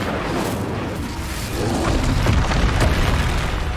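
Confringo explosive spell cast in Hogwarts Legacy, a deep booming blast that swells into a heavy rumbling explosion, loud and close.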